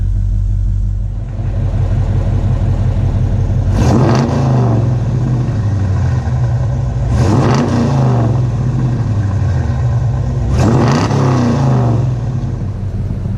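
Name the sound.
Dodge Challenger R/T engine revving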